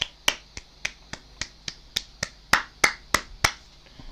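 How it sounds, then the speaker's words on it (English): One person claps alone, about thirteen sharp, close claps in a fairly steady rhythm, each a crisp isolated hit with quiet gaps between. "And I wrote in here that I should clap."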